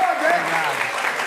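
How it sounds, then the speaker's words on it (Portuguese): Dense, steady applause from a Brazilian TV talk show studio audience with cheering voices mixed in, continuous throughout. "aplauso, quero um salva de palmas pro Danilo"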